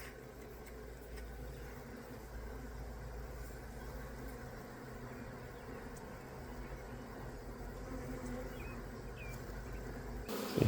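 Honey bees fanning at the entrance of a hive as a transferred swarm settles in, a steady dense buzzing drone that holds level throughout with no talk over it.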